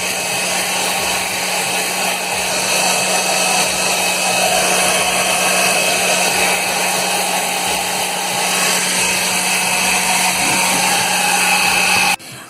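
A hair dryer runs on high with a loud, steady whine close by as it dries paper tubes. It keeps going without a break for about twelve seconds, then cuts off abruptly, with no voices.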